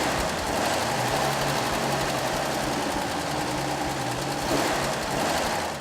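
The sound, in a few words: old car engine idling after tune-up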